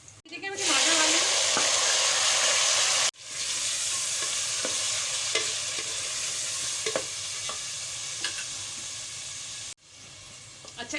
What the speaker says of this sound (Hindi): देखिए मैं टमाटर डाल रही हूँ।